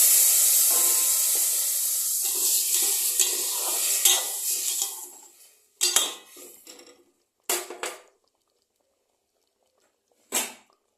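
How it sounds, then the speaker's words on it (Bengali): Water poured into a pot of rice for chicken biryani, a steady rushing pour of about five seconds, followed by a few short splashes and clinks with quiet gaps between them. "এটা আমি প্রথম মাপে জলটা দিলাম।"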